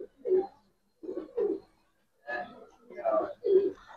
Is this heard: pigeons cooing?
yes